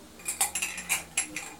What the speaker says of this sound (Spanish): Ahora este vamos a batir.